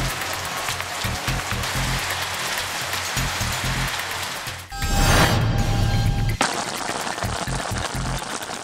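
Steady rain falling in hilly country, a dense continuous hiss that stays loud throughout, with a brief louder, rougher burst in the middle before the even downpour returns.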